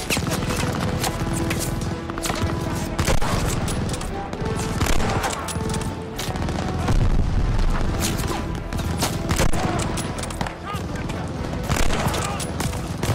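Sustained gunfire in the shooter Call of Duty Vanguard, dense volleys of shots and booms filling a busy battlefield mix throughout, with a voice talking over the continuous shooting.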